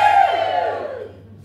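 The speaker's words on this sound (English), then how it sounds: "Ladies, give me a cheer." Women in an audience at a roastery opening let out a loud high-pitched cheer that fades away over about a second, a brief burst of many voices.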